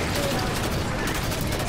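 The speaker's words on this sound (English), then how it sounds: "All I hear is gunfire." Dense, continuous rapid gunfire in the video game Halo 5 crackles loudly, overlapping shots blending into a harsh, unbroken burst of noise.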